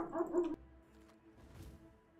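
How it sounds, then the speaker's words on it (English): A pet dog gives a short burst of barking and whimpering yips in the background of a home room, fairly faint, followed by quieter scattered noises. "Sorry if you guys can hear the doggo barking."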